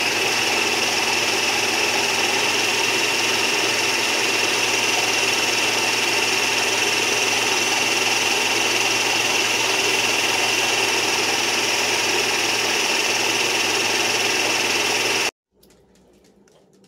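A blender purees keto pumpkin cheesecake batter with a loud, steady motor whir that runs unbroken for about fifteen seconds, then cuts off abruptly into quiet room noise.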